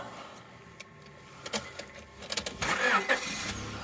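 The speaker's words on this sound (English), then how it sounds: "And I'll just start the engine," A 1997 Honda Orthia wagon, the sixth-generation Civic wagon, is started after a few quiet clicks and key sounds, with the starter cranking briefly before the engine catches and settles near the end.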